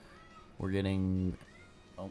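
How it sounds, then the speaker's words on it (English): A house cat lets out a single drawn-out meow in the background, rising then falling, with faint talking before and after it. "I don't know if you can hear my cat in the background"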